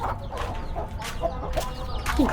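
A chicken clucking softly in a short series of quick, fairly faint calls, heard close by with little else around.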